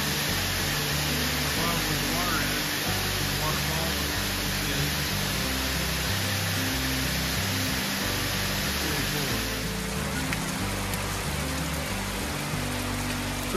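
Machine Falls near Tullahoma, Tennessee, roars with a steady, dense rush of falling water on an icy day. The sound is close and constant and fills the whole span, with no voices.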